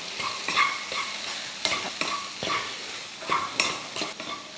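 Plantain with onions and salt being stirred and fried in a pan: a spatula scrapes in repeated strokes over a constant soft sizzle, close and clear, with no voices.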